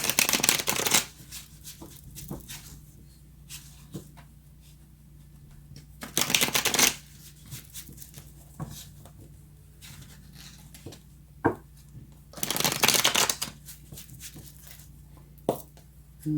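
A deck of cards shuffled for a card reading, three distinct riffling bursts separated by quieter pauses with faint handling taps.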